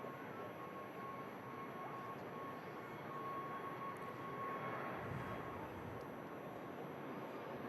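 Airbus A380 in NBA livery at Manchester Airport, a steady broadband engine roar holding at moderate distance throughout, with a faint high whine running beneath it.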